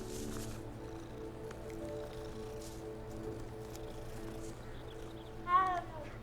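A cat in the Hogwarts Legacy video game gives a single short, rising meow near the end, heard over a low, steady bed of game ambience and music.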